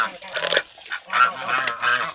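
Several ducks honk and quack nearby in quick, overlapping bursts, loud and close.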